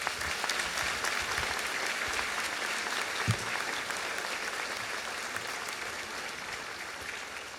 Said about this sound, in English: One more time, clap for this rascal.